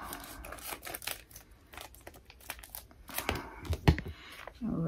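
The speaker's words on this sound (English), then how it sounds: "Get this open. Oh, I have scissors here." Crinkling plastic and tearing, with a few sharp snips as a packet is cut open, close by, with scattered rustling throughout.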